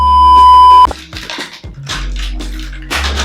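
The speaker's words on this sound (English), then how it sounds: "Sorry y'all, my phone ringing." A mobile phone rings with electronic beeping tones, loud and close, first as a steady tone and then in short bursts of chirps and jingles.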